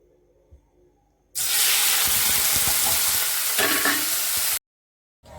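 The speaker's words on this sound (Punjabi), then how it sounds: "ਆਪਾਂ ਇਹਨੂੰ ਥੋੜਾ ਜਿਹਾ ਫਰਾਈ ਕਰਾਂਗੇ" Masala ingredients and malai (cream) fry in a hot pan, a loud, steady sizzle that starts abruptly, holds for about three seconds and then cuts off.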